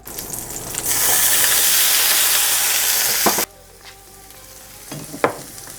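Butter sizzles and fries loudly in a pot with root vegetables, a bright steady hiss for about three seconds that cuts off abruptly, followed by quieter crackles and a few stirring clinks.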